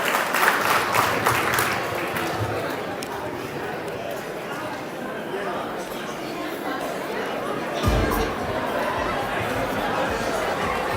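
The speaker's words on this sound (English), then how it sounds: "Give her a round of applause, guys." A crowd claps at a 25th wedding anniversary celebration. Clapping is loudest at the start, then settles into a bed of guest chatter and murmur while a voice talks over it.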